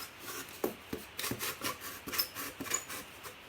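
Scraping and rubbing strokes of a tool being slid through a pre-cut craft board in a workshop, a run of short uneven rasps close by with no talk.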